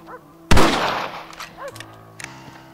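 One loud rifle shot in the Red Dead Redemption video game cracks out close by and rolls away in a long echoing tail, with faint incidental sounds around it.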